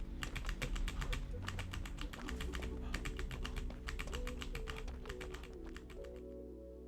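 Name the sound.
computer keyboard keys being pressed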